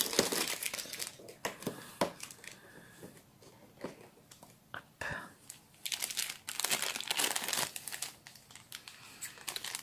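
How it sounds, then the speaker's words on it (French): Plastic and foil packaging crinkles and tears as a compartment of a 2018 Animators' Collection Littles advent calendar is opened, with close, busy rustling bursts throughout and someone talking over it. "je vais ouvrir la case du jour"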